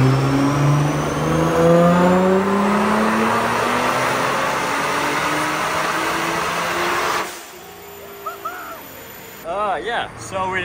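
Nissan R35 GTR engine on a dyno, loud sustained revving with rising pitch that cuts off abruptly, followed by a few short blips of the throttle and faint hoots.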